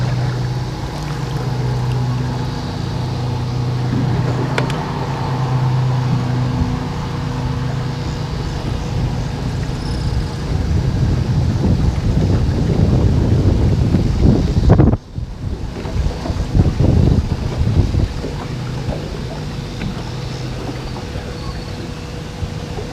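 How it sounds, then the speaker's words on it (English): Strong wind roars steadily over a fishing boat out on the water, a continuous rushing buffet with gusty microphone rumble that swells louder midway and carries on alone. "Tough wind again."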